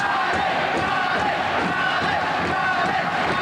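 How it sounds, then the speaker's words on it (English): Boxing arena crowd roars and cheers continuously during a bout between Wilson and Hearn, a dense, loud wall of voices rising and falling with shouts, under a commentator's talk. "But just listen to the crowd."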